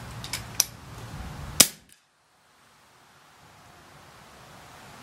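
An FX Crown air rifle fires a couple of sharp, close cracks followed by a snappy report, then falls silent with faint outdoor background noise.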